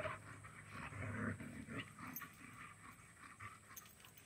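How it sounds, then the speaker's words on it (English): Three dogs pant and snuffle close by in a steady, breathy rhythm, with occasional small whimpers over a constant background hiss. "Look at the dogs around."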